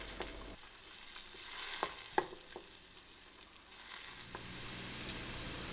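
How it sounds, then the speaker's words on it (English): Onions cook in melted butter in a pan with a soft, continuous sizzle, a few light clinks and stirring sounds rising briefly above the quiet frying. "I will add the onions and cook them until they're translucent and"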